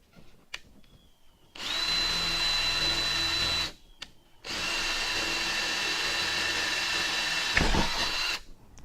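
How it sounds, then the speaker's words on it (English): A power drill bores holes into a wooden board in two sustained whirring bursts of about two and four seconds, close and loud, with small clicks and handling noises around them. "I'm going to drill a hole right in the middle of each one of those circles."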